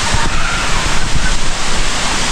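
Rushing water below a scenic spot, a loud steady broadband roar like a cascade or rapids, close and continuous with no voices.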